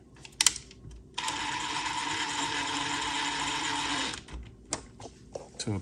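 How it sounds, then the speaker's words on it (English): A power drill fitted with a magnetic bit drives a screw slowly during tachometer work on a Mustang II, giving one steady whirring run of about three seconds with brief clicks before and after. "Got the screw, just gonna drill it in slowly."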